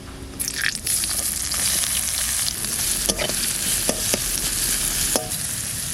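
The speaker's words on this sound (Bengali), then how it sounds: "পেঁয়াজটা ভাজা হয়ে গেছে" Chopped onion frying in oil with a dried red chilli tempering, for a homestyle Bengali mustard-poppy pointed gourd dish, gives a steady, dense sizzle broken by a few sharp spatula clicks and scrapes, with no talking.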